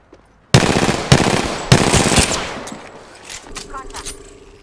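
Gunfire in the Apex Legends video game, with three loud, sharp automatic bursts close together, then trailing echoing shots fading out as game audio continues underneath.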